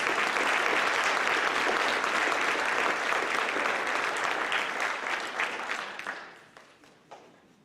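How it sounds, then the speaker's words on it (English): Sustained audience applause at a scholarship and junior high/high school awards program, loud and dense with many hands clapping, thinning out and fading to scattered claps over the last couple of seconds. "Let's give both of these gentlemen a round of applause."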